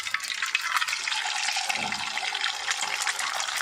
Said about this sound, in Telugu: ఉడికిపోయిన తర్వాత దీంట్లో చల్ల నీళ్ళు పోసుకోవాలండి